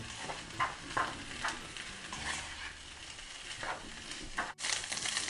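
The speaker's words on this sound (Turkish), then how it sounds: "Soğanları kıymayla bir güzel kavuruyorum." Onions and minced meat fry in oil in a pan, giving a soft continuous sizzle with repeated spatula stirring scrapes, fairly quiet and close, with no talk.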